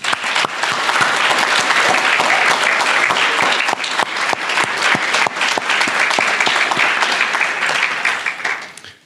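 Audience at an annual meeting applauding legal aid attorneys in the room, loud dense clapping sustained for several seconds before tapering off at the end.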